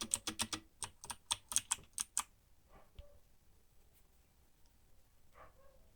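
Rapid bursts of typing on an attractive, quality-built mechanical computer keyboard, crisp clicking keystrokes close up, then trailing off into a few scattered faint taps.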